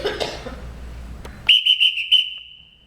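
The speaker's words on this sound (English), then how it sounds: "Everyone in this house answers to a whistle. I'll show you." A sharp, shrill whistle blown in a stage musical sounds in a rapid series of short blasts, then holds one long piercing tone, after a cough and some room noise.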